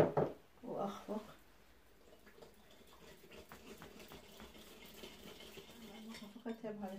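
Fruit jelly powder is whisked in a cup of very hot water, with a rapid train of light clinks and watery swishing that is steady and close but faint, following a brief louder clatter at the start.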